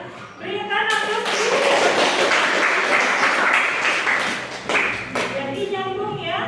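Classroom applause for a student who has just given a chemistry conclusion, a dense sustained wash of many hands clapping at close range for several seconds before tapering, with faint voices underneath.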